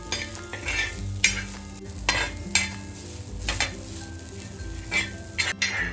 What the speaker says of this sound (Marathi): आता ना हे आपण मस्त असं 2-3 मिनिटं परतून घेऊयात।